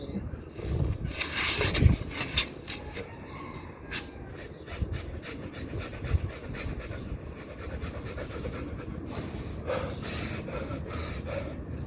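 Deep breathing during a breathing exercise outdoors, with several audible inhales and exhales and some rustling, close but fairly quiet.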